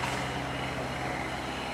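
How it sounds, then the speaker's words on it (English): Steady rumbling truck engine noise with a low hum from a construction site, heard at a distance and fairly quiet, with no talking. "Sorry about the noise. We have a construction site going on over here"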